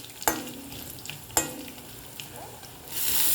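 Paneer cubes sizzle in a pan for a cabbage, carrot and beans paneer curry, with two sharp spatula clinks against the pan over a steady low fry hiss that swells near the end.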